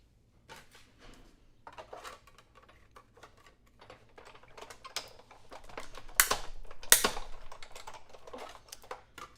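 Die cutting machine pressing a die through paper for a postage-style frame, a run of close clicking and ratcheting with rattles that grows louder toward the end, with two sharp crunching peaks.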